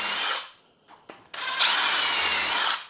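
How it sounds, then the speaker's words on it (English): A power drill with a normal pilot bit bores pilot holes into oak while a door is fitted to an old frame: a sustained whine, a pause with short bursts, then a long, loud, steady run of drilling up close. "we're going to drill three holes"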